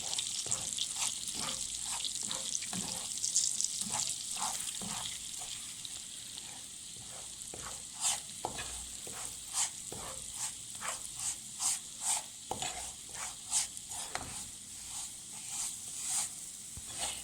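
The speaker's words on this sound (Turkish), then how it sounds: "Karıştırıyoruz. Kavuracağız. Renk değiştirene kadar." Semolina toasts in melted margarine in a pan as it is stirred, a soft continuous sizzle broken by repeated scraping strokes of the spoon that grow more regular toward the end.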